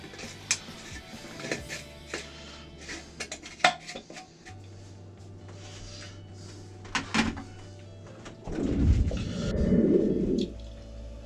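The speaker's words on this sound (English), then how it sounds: "now continue to stir it up" Taquito filling mixture stirred in a bowl, with spoon clinks and scrapes against the dish in an irregular rhythm, then a louder stretch of mixing near the end; no talking.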